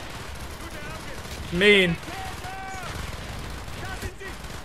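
Submachine gun fire from a PPSh and MP40 in Call of Duty Black Ops, heard as scattered shots under game noise while someone speaks briefly over it, with a short tonal voice-like burst midway.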